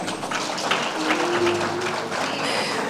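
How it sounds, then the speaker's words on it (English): An audience at an award ceremony gives a short burst of steady applause. The dense clapping is moderately loud and carries a faint tonal hum underneath, with no speech over it. "Give her a round of applause."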